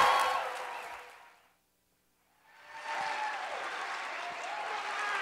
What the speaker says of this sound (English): So if I could get a huge round of applause for Larry, let's start Slideshow Karaoke.